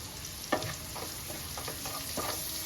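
Whole spices, cardamom powder and chili fry in a hot pan with a steady close sizzle, broken by a few soft stirring scrapes.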